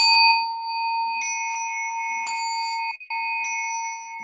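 A bell rung during a Soto Zen ceremony sounds in clear sustained ringing tones, struck again several times so each new ring layers over the fading one, with a brief dip before a last strike.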